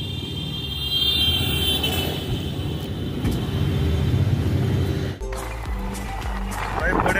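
A scooter is ridden away from a Delhi Metro parking area, its engine droning and rumbling steadily under loud nearby talk, then cutting to a different, busier street scene.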